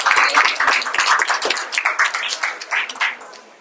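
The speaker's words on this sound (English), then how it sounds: "Can we please give this panel a round of applause?" Audience applause for a discussion panel at a parenting talk, a dense burst of many hands clapping that holds steady and then gradually thins out, with no voices over it.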